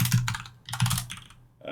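Bursts of quick, clattering keystrokes on a computer keyboard, two clusters of close typing separated by short pauses, near and fairly loud.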